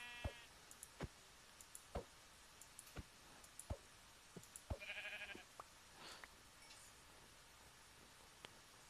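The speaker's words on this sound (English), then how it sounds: "Sheep." Sheep bleating in the Minecraft video game, a short synthetic bleat standing out among a regular series of sharp clicks and taps from gameplay, quiet and without talk.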